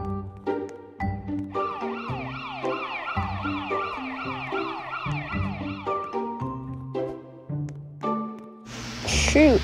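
A wailing electronic police car siren in a SpongeBob-themed obby video game sweeps up and down over game music and talking, steady and fairly loud throughout.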